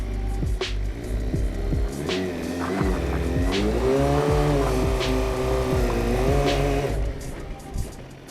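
A motorcycle engine revs hard through a rolling burnout, the pitch climbing and dipping in repeated surges with tire squeal mixed in, close and loud, before it drops away near the end.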